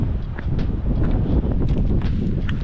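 Steady wind blows across an open hilltop near cliffs, a constant low rushing roar with gusty buffeting against the microphone throughout, loud and close, with no one talking.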